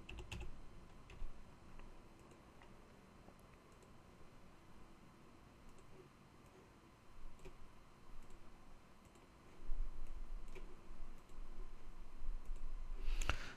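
Computer clicks and key taps sound while spreadsheet cells are cleared, a light, irregular patter of close, quiet clicks over faint room noise, growing a little busier toward the end.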